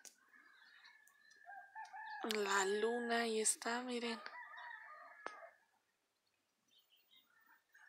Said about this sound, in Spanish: Al cantar de los gallos se escucha todavía.